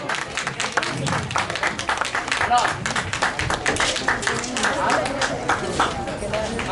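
An audience at a music program claps for a guest's father, an uneven burst of hand claps close by, loud and steady throughout, with a voice speaking over the clapping.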